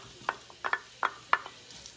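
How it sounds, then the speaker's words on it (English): Onions added to hot oil in a warmed pot and stirred, several short scraping clatters and sizzling bursts in an uneven rhythm over a quiet background, close by with no talking. "I am going to add my onions."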